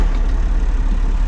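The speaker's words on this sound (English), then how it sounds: "So we'll start the tractor and feeder up." A farm tractor's engine runs loud and close, a steady low rumble with no break across the short moment.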